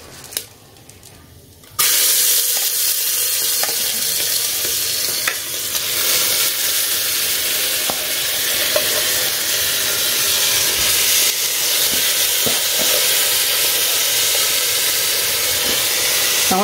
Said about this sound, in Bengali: এবার চালটাকে একটু হালকা ফ্রাই করে নেবো ঘিতে।